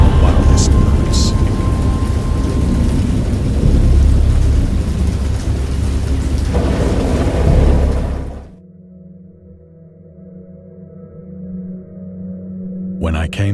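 A thunderstorm rumbles with heavy rain and deep, rolling thunder, loud and dense, for about eight seconds. The storm then cuts abruptly to a quieter low drone.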